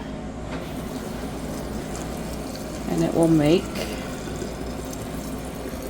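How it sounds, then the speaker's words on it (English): Steaming honeysuckle tea being poured into a jar gives a short liquid splash about halfway through, over a steady low background hum while a person talks. "we're just going to carefully pour this into our jar"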